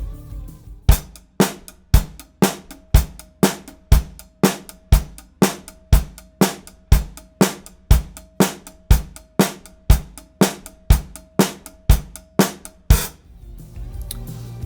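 A drum kit plays a metric modulation exercise on a triplet pulse over a quarter-note click track: steady, punchy strikes repeat in an even rhythm with a thin click tone underneath, close and loud, no talking.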